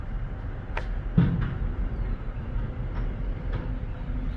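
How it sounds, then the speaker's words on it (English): A small pump moves fuel from an underground tank into tractor tanks, giving a low, steady mechanical hum with a few faint clicks, fairly quiet and without talk. "Having a little pump there, which is that red object,"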